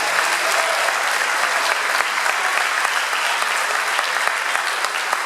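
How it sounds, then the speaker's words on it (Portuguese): Church congregation applauding during a live evening service, a dense, steady wash of clapping hands that fills the whole stretch without pause. "Então aplauda Ele mais forte nessa noite."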